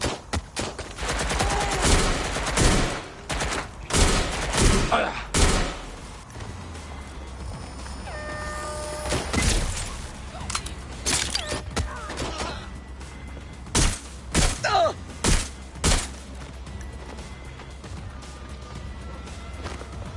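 Gunfire in the video game Watch Dogs: Legion: repeated loud bursts of shots and rapid volleys, clustered early and again mid-clip, with quieter gaps between and a low rumbling bed beneath.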